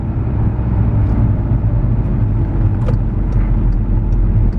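Skoda Octavia vRS turbo engine pulling under acceleration from inside the car, a loud steady low engine drone with a few faint higher clicks and whooshes on top.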